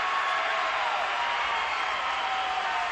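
A hockey arena crowd in Bakersfield roars steadily during a player fight on the ice, a dense, continuous wash of cheering that holds at an even loudness.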